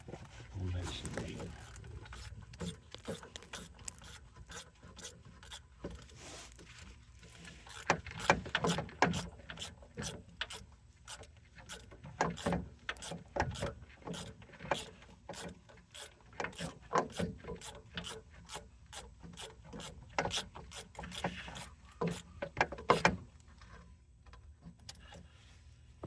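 A ratchet socket wrench turns the starter bolts on a 2007 Chevy Silverado 4.8L, giving many quick, close clicking bursts in uneven runs with short pauses between them, fairly quiet overall, while a voice talks now and then.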